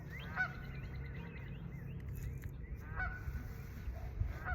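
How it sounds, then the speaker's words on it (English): A goose honks loudly and nearby, two separate harsh calls around a second and three seconds in, set against steady low outdoor rumble, with no talking. "this goose is making me mad."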